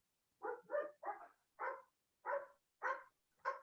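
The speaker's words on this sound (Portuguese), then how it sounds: "Vocês estão ouvindo o cachorro latindo?" A dog barks seven times in a steady series of sharp, evenly spaced barks, clear and fairly close, with nothing else around them.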